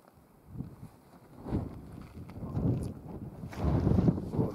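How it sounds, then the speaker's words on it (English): Outdoor wind near Kilauea volcano buffets the microphone in irregular low rumbling gusts that build and grow stronger toward the end, with no talking. "Oh, there's that wind."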